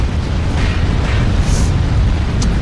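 Missile weapons exploding in the mech combat game MechWarrior Online, a dense, loud, sustained rumble of blasts with no clear gaps, dominated by heavy low-end booming.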